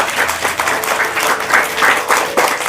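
A small classroom of pupils claps after a correct arithmetic answer, a close, loud burst of uneven clapping that swells and dips in rhythmic waves over a few seconds.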